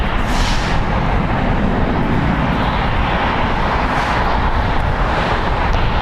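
A 21-year-old Delta Airlines Boeing 737-800 departing LAX, heard as a loud, steady jet engine roar that stays broadband and sustained throughout, with no talking.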